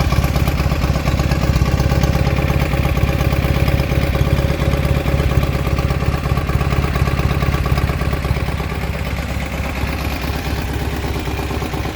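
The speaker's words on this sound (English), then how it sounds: "The engine's really loud, so it's kind of hard to actually hear the exhaust" A classic Fiat 500's small engine runs steadily and loudly at idle, with a continuous rattling exhaust note throughout and no talking.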